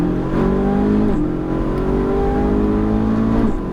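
A Ferrari 458 Italia on a race circuit accelerates hard, its engine note rising in pitch, dropping briefly at a gear change and climbing again, loud and close, as if heard from inside the car.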